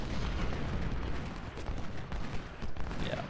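Massed infantry musket fire from an American Civil War battle at Prairie Grove in Ultimate General: Civil War crackles as a dense, rolling volley, steady and rumbling with no break.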